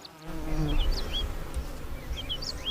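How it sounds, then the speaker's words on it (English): Cape honeybees buzz steadily up close, a dense insect drone with a few faint high chirps over it. "You can see they're Cape black bees, so they're very black."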